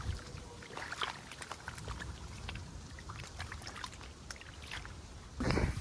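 Irrigation water flowing and trickling into a farm field, a steady splashing rush heard close by for several seconds, with a louder surge of water near the end.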